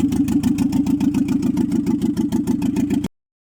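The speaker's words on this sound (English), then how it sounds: "guys, the engine is running" A VW Bora 1.6 engine idles close by with a rapid even pulsing hum and a ticking rhythm. It runs for about three seconds and then cuts off abruptly into silence.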